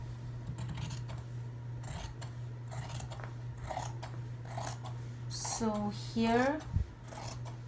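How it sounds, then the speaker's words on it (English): Scissors cutting around fabric for a sewing project's envelope-back cushion cover give a string of short, close snips and rasps, with a person briefly speaking near the end. "grab your scissor and cut it all around."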